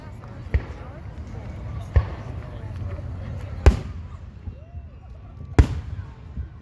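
Fireworks at a 4th of July display in Manlius, NY: four sharp, loud booms spaced a second or two apart ring out over steady crowd murmur and low background rumble.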